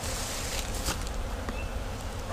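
A steady, close hum of many honeybees buzzing in an open brood box during a hive inspection, a continuous droning swarm with a few louder passes near the microphone and no talking.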